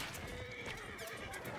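A horse in the Battlefield 1 video game neighs over galloping hoofbeats, a loud whinny rising above steady clip-clop and game background noise, with no talk.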